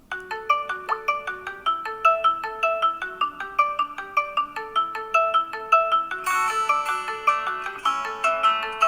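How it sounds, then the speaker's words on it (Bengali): A melodic phone ringtone plays continuously, repeating a bright electronic tune at a steady rhythm, loud and close, with a fuller layer joining near the end. "খুব সুন্দরভাবে আমার ফোনটা বেজে উঠবে"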